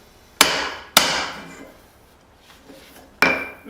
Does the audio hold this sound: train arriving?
no